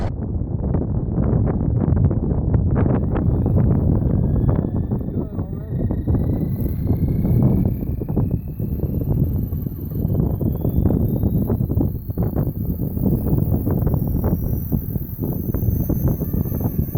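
Strong 28 to 30 mph wind buffets a microphone outdoors at night, a continuous loud low rumble with gusty surges throughout, with a faint high whine above it.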